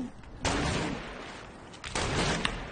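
A video game gun fired into the air, two sharp loud shots about a second and a half apart, each trailing into a rumbling decay, with no speech.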